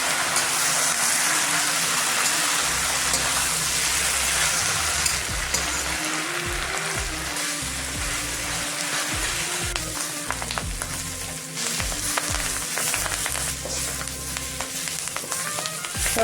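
Moong dal with drumstick leaves fries steadily in a pan, a dense continuous sizzle with scraping stir sounds and occasional crackles, close and loud throughout with no talk.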